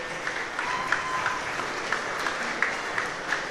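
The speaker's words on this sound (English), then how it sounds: "a round of applause." An audience applauds after a squash exhibition between Paul Coll and Diego Elias, a steady wash of clapping from a crowd in an indoor venue, with a few sharper individual claps standing out.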